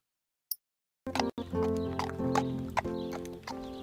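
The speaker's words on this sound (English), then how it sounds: "he's no ordinary horse" A horse whinnies loudly and close after a brief silence, its neigh carrying on over soft hoof clops and a muffled tap, the call rising and falling before fading out.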